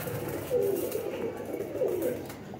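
A pet pigeon coos softly at close range, two low throaty rolling coos about a second apart over a faint background hiss.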